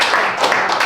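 Audience clapping for the host at a live comedy show, a brief dense burst of hands close and steady.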